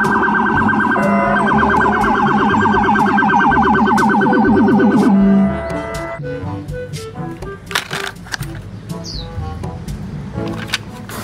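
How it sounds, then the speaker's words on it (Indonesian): Toy police patrol car siren wailing loudly for about five seconds, then cutting off to small clicks, rattles and plastic handling noises close by. "Wow, ini ada mobil patroli,"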